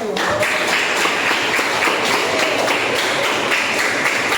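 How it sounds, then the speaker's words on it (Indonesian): Classroom applause at a junior high school as students clap for a group after its presentation, a dense steady patter of many hands held at an even level throughout. "tepuk tangan dulu untuk kelompok 1"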